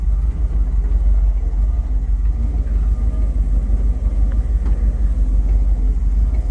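A 1973 Dodge ramp truck with a 318 V8 idles steadily in first gear, a loud, close, continuous low rumble with an even throb and no voices.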